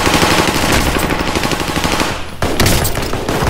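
Dense, loud automatic gunfire in a Call of Duty match, continuous rapid bursts with a brief lull near the middle before the shooting resumes at full intensity.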